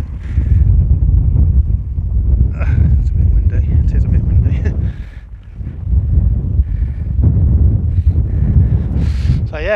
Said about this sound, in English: It's a bit windy today.